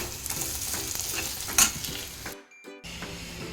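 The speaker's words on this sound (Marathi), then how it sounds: "हा खजूर असा छान तुपात परतवून घ्यायचं आहे आपल्याला मऊ होईपर्यंत" Steady sizzling of dates frying in ghee with occasional stirring scrapes, then a brief drop to near silence before the sizzle resumes.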